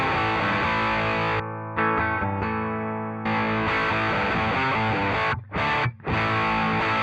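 Electric guitar through a drive pedal model on a NUX MG300 MKII modeler, sustained distorted chords with brief pauses and a couple of quick cutoffs near the end, loud and alone.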